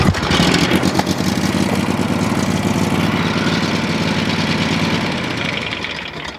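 A Scag 36 commercial mower with a Kawasaki gas engine, fuel leaking into the crankcase oil, runs loud and close with a rough, steady chugging that holds for several seconds before easing down.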